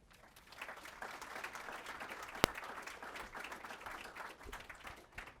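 Audience applause greets Linda Matzigkeit, Chief Administrative Officer of Children's Healthcare of Atlanta, at a Terry College event: steady, dense clapping from a sizable crowd across the whole stretch, with one sharp louder clap midway.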